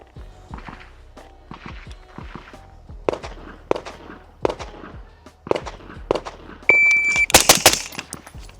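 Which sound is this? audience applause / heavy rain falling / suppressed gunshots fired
suppressed gunshots fired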